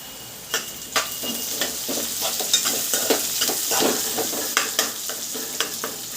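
Capsicum curry is stirred in a frying pan, with repeated scraping strokes of a spoon against the pan in an uneven rhythm over a steady background sizzle.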